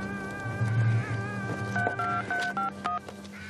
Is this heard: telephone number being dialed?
yes